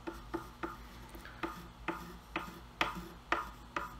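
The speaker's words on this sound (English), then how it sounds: "using a veneer hammer to press them into place, I'm using hot hide glue." A veneer hammer presses veneer into hot hide glue on a mahogany Sheraton server restoration, giving faint rhythmic scraping rubs about every half second, close and quiet with no speech.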